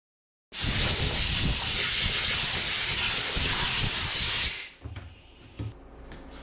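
Compressed air blasts into an engine oil pan to clear out metal shavings, a loud continuous roaring hiss for about four seconds that cuts off abruptly, followed by faint clanks and handling noises.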